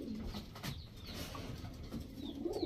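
Cobra Lal Patti pigeons, a running pair, coo in low repeated throaty bursts close by, with some light background noise throughout and no talking.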